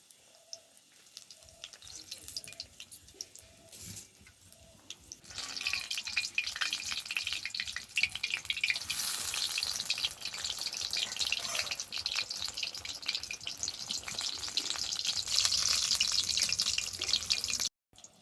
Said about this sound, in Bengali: দুটো দুটো করেই ভাজবো।